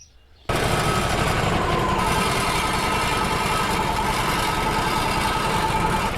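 A Wood-Mizer LT35 sawmill engine starts abruptly after a brief quiet moment and runs at a steady, loud idle before quarter sawing an oak log, a continuous low rumble with mechanical clatter.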